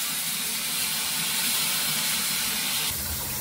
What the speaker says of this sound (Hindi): प्रेसर कुकर रु धूआ बाहर